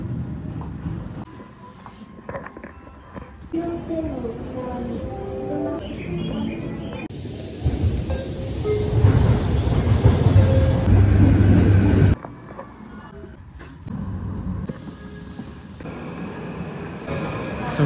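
A commuter train pulls into a Tokyo station near Harajuku, its rumble and squealing brakes swelling to a loud roar, then fading back to platform ambience.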